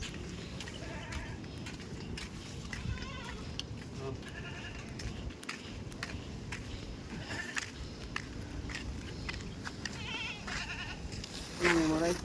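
Goats on a Filipino goat farm bleat in a steady chorus over constant background noise and footsteps, with a louder burst near the end; a person speaks intermittently throughout.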